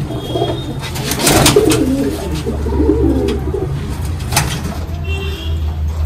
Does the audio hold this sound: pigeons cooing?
yes